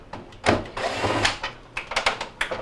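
Phillips screws are worked out of the back panel of a Hotpoint refrigerator's freezer, with uneven bursts of a power driver and scraping handling noise, fairly close and moderately loud.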